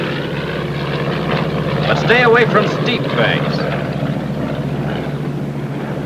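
Steady drone of a McDonnell Douglas A-20 twin propeller airplane's engines in flight, continuous and fairly loud throughout, with a voice talking over it.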